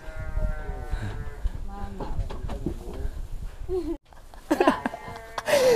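Village sheep bleat near and loud over a continuous murmur of people talking, with several wavering cries and a noisy stretch near the end.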